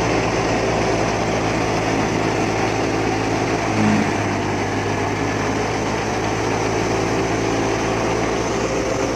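A 2020 New Holland Dabung 85 tractor drives a thresher on a farm, its engine giving a steady, loud, unbroken drone with a constant mechanical whine layered over it.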